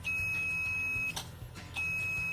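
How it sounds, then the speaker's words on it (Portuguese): An analog multimeter sounds a continuity beep while testing a good fuse: a steady high tone holds for about a second, cuts out briefly, then beeps again, close and clear over faint background noise. "Vamos utilizar aqui um multímetro analógico para o mesmo teste, né? Então, vamos unir a prova, ele solta um bip."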